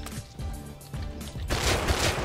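Gunfire in the video game Rust, heavy repeated shots in close succession that build to denser bursts of fire toward the end.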